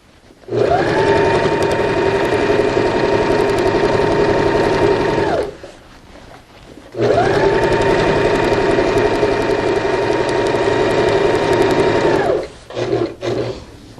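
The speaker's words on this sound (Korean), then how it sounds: "이렇게 뒤를 잡아당기면서 박음질 해보세요." A sewing machine stitches non-slip fabric for a patchwork bath mat at a longer stitch length, running loud and steady in two long bursts of about five seconds with a brief pause between.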